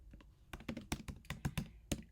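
Fingers type quickly on a computer keyboard, a close, quiet run of irregular key clicks with short pauses between bursts, with no voices.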